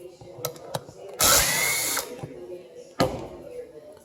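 Impact or power tool removing a brake caliper bolt on a 2006 Chevrolet Aveo, one loud close burst of under a second followed by a brief rattle, with clicks and handling noise around it.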